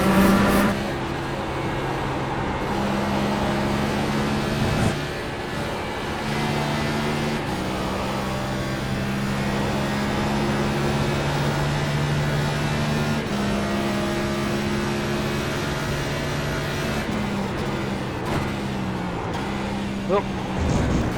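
A race car engine in the iRacing video game at Watkins Glen drones steadily with pitch shifts through gear changes and braking, while a voice talks over it intermittently.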